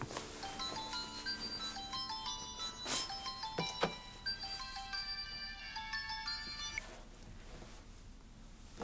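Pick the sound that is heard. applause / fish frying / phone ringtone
phone ringtone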